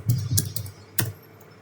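A few close keystrokes on a computer keyboard tap out a terminal command, a brief cluster of clicks followed by one firm key press and a quiet tail.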